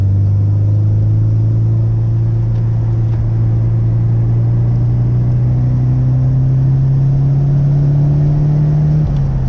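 A car pulling hard in third gear around 3,500 RPM on a winding North Carolina mountain road, the engine note loud, close and steadily rising in pitch with no talking.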